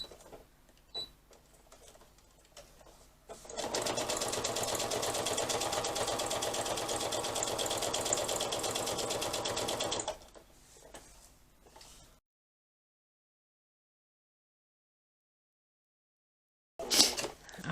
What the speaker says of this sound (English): now we've got to do right sides together and sew it all the way around.